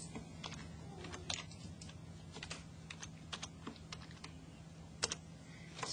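Computer keyboard being typed on as points are entered, a quiet, irregular patter of close keystrokes with a few louder taps over a low steady hum.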